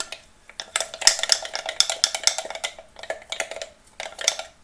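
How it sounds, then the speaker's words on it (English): A spoon stirs sourdough starter in a container, giving a quick irregular series of close scraping and clinking strokes with short pauses between bursts. "So I'm going to stir it really good and get some oxygen in there"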